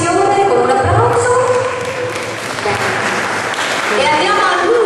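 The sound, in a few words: audience applause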